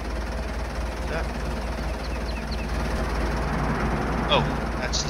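Spinnery machines running inside a building in Farming Simulator 22, a steady low mechanical drone and hum that holds level throughout, with a person talking over it.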